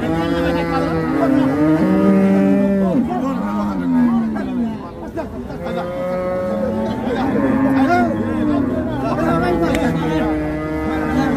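Bulls and other cattle low repeatedly with long, drawn-out moos at the Paragram livestock haat, loud and close, over steady crowd chatter throughout.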